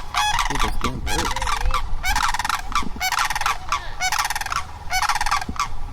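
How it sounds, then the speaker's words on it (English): Birds honking loudly and close by in repeated rhythmic bursts while someone rides a scooter, with rustling movement noise underneath. "Dude, those damn birds."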